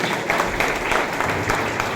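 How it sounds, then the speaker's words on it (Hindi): Audience applause at a direct-selling motivational meeting, a steady wash of many hands clapping together, fairly loud and close, continuing evenly for the whole stretch without talk over it. "सर के लिए जोरदार तालियां लगनी चाहिए"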